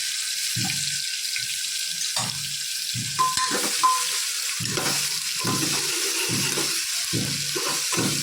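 Onions, tomatoes, garlic, green chillies and bay leaves frying in a pan with a steady sizzle, punctuated by repeated scraping and knocking as they're stirred with a utensil.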